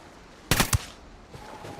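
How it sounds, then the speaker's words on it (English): Short burst of gunfire in the video game Ghost Recon Wildlands: two or three sharp, loud shots in rapid succession, then a faint tail of background noise. "Open fire."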